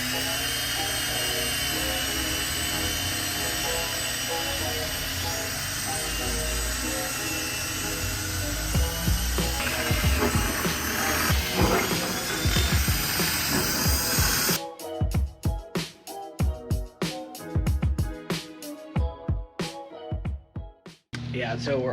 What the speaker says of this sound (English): we're obviously drilling the spoiler right now.